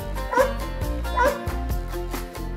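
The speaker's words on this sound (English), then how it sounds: "D for dog." A dog gives a couple of short barks and yips, spaced about a second apart, over bouncy background music in a children's alphabet learning song.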